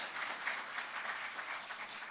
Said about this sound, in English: He's not here, but we're still going to clap for him.